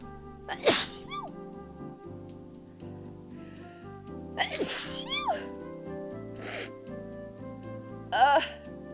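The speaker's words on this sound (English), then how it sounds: "I sneezed." A person sneezes several times in a short series of sharp, breathy bursts with gasps between, close and loud over a soft steady musical background.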